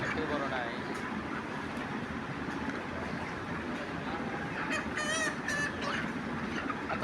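Chickens at a busy poultry market being weighed, with occasional squawks and clucks rising over a steady, crowded din and people talking nearby.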